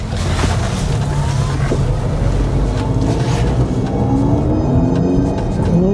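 Honda CR-V RS e:HEV hybrid engine driven in sports mode, a steady continuous drone with rising and falling tonal sweeps as it revs, heard from inside the cabin with constant road and wind rumble.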